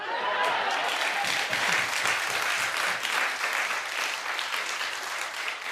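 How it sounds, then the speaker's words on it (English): Studio audience applause on a daytime talk show, loud continuous clapping from a large crowd, close and sustained for several seconds with a brief whoop near the start. "Clap if you would."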